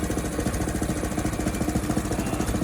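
A Frontier OS23 sawmill cuts a log into 1.5 inch slabs, producing a loud, dense engine drone with a fast, even pulsing rhythm that runs steadily throughout.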